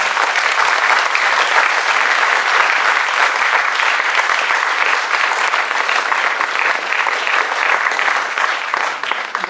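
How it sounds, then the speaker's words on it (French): A theatre audience at an improv festival applauds loudly and steadily throughout, a dense crowd clapping that holds at full strength for nearly ten seconds. "Merci de les applaudir très très fort."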